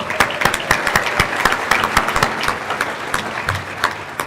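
A roomful of people at a church conference session breaks into steady applause, dense clapping sustained evenly throughout and heard close and loud with no talking over it.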